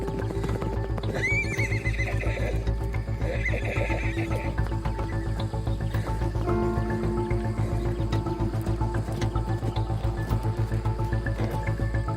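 Wild horses in the Australian landscape neighing repeatedly, with a few clear whinnies over a steady background of hoof clip-clops and rustling, close and fairly loud throughout.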